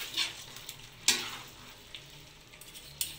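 Chicken caldereta stirred in a sizzling pan, a steady frying hiss broken by several sharp scrapes and taps of the utensil against the pan, close and alone.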